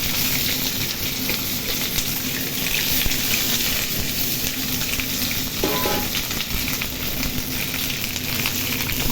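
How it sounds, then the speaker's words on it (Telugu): Vegetables sizzle and fry steadily in hot oil in a home kitchen while moringa chutney is being made, a dense continuous crackle close by with faint stirring. "ఇప్పుడు దీనిలోకి నూనె కాగింది కదా కొంచెం మెల్లగా కూరగాయలు అన్ని కూరగాయలు వేసేస్తాం"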